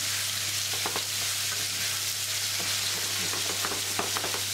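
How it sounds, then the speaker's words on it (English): Mixed vegetables with fresh chilies sizzling in a pan, a steady close hiss with faint crackles and a low constant hum underneath, and no one speaking. "you can see the veg is cooking lovely"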